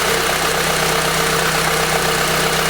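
A VW MKV GTI idles with its MAP sensor unplugged, a steady, loud, slightly rough engine drone with a fine vibrating rhythm, close up and with no voices.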